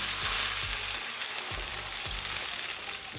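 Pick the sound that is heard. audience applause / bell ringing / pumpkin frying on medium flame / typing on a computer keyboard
pumpkin frying on medium flame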